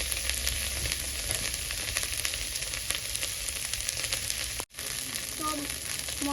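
Spices with fried potato and banana sizzle steadily in a pan for a kola koi recipe, a constant near frying hiss that briefly cuts out near the end before resuming.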